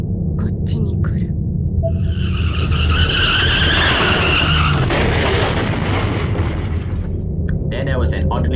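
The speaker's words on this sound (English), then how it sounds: "Another car accident again right outside my door." Car tires skid loudly and a vehicle crashes in the horror video game Corpse Party: Blood Drive, with a long, harsh screech building to a roaring impact that fades out over several seconds.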